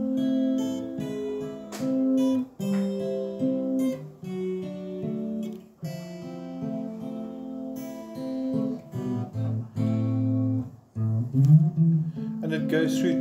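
A song played through twice as a demonstration, a clear melodic line of separate sustained notes moving in steps and phrases, alone with no voice.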